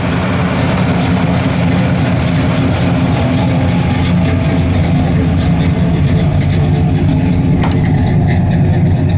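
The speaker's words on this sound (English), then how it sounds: "It's got a great dual exhaust sound to it." A 1967 Pontiac GTO's deep, rumbling engine idles steadily with a throaty dual exhaust burble, loud and close, continuing without a break.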